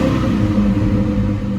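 Nissan car engine given a short rev, a loud steady rumble with a low drone throughout this brief moment, heard close with no talking.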